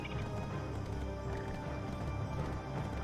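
Hooves of a horse galloping in Black Desert Online, a steady, fairly faint clip-clop running under game ambience with an occasional whinny.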